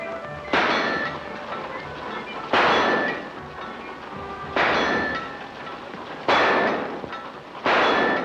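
Gunshots from a small target gun at a shooting gallery, five sharp cracks at irregular intervals of about two seconds, each with a ringing metallic tail over a steady background hum.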